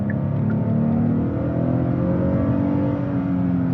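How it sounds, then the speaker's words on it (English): A 2026 Hyundai Palisade Calligraphy accelerates, its engine giving a steady, loud droning hum that rises gently in pitch as it climbs, heard alone inside the cabin. "I do kind of wish that the engine was just a bit peppier."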